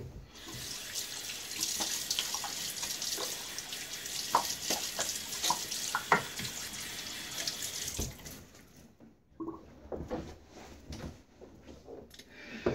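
A razor gets a quick mid-shave rinse under a running bathroom tap, water hissing steadily into the sink for about eight seconds before the flow stops, followed by a few soft clinks and taps.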